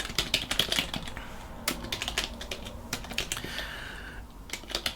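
Keys clatter on a computer keyboard in quick uneven bursts during a Linux installation, close and fairly clear, with brief pauses between runs of typing and no voices.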